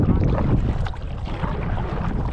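Kayak paddling on a lake, with close water swishing and sloshing against the hull under rumbling wind noise on the microphone, steady across the short stretch with no voices.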